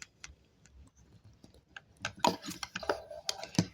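Plastic parts of a Transformers Studio Series Megatron figure snapping and clicking into place, a cluster of sharp close clicks and rattles in the second half after quieter handling noise.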